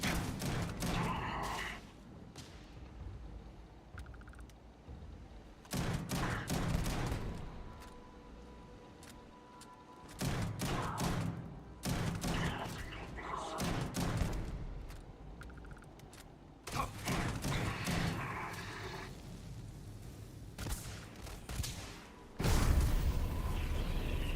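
Shotgun blasts boom repeatedly in the video game Starfield, loud and close, in several heavy bursts separated by brief quieter lulls filled with game ambience.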